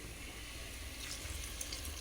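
Water is poured into a pot of village-style crab curry as a continuous rushing, splashing stream, steady and close for the whole stretch.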